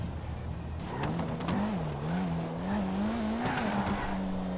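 Cars race in the GTA 5 video game: a high engine whine climbs and wavers as one accelerates, with tire squeal and skidding layered over a steady rumble of other engines.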